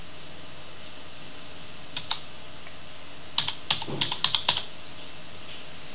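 A computer keyboard is typed on, first two isolated clicks and then a quick burst of about eight crisp keystrokes as a name is entered, close and clear against a quiet background with no talking.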